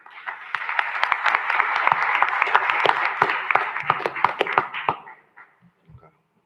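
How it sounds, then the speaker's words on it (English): A council-meeting audience gives the parents a round of applause: dense, lively clapping that holds steady for about five seconds, then thins to a few scattered claps and stops. "Can y'all give the parents a round of applause"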